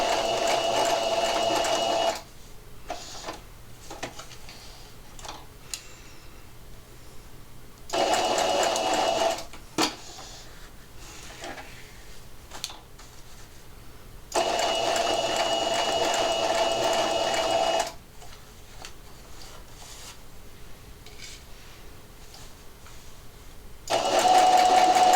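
A sewing machine stitches fabric for a Christmas tree in three loud, steady bursts of rapid mechanical chatter, separated by quieter pauses filled with small handling clicks and rustles.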